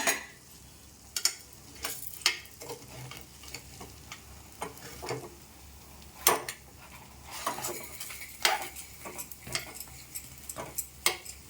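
A rava bun dosa cooks in a pan with soft sizzling, punctuated by scattered clicks and taps of a utensil against the pan, fairly quiet and close.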